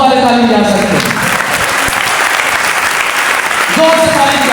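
A church congregation claps together loudly through the whole stretch, a dense steady wash of applause under voices and music, with singing breaking in near the start and end.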